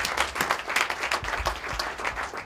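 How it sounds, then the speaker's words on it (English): A dinner audience at a charity event breaks into steady, dense applause, many hands clapping together in a lively, continuous burst without any speech over it. "Please join me in giving a very important Tony a very big round of applause."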